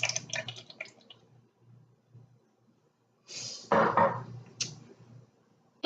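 Vegetable or olive oil pours into blueberry muffin mixture in a brief, wet gurgling splash partway through, with soft kitchen noises before it.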